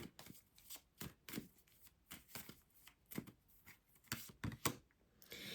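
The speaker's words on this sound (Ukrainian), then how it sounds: "наступну колоду для близнюків витягнемо звідси три карти" Soft papery slides and flicks of tarot cards drawn from a deck one after another, quiet and close, in irregular bursts.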